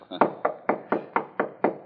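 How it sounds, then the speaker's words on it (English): Eight sharp knocks on a door come in a quick, even run, close and loud with nothing else heard, in an old radio mystery drama. "too drowsy to hear our knocking"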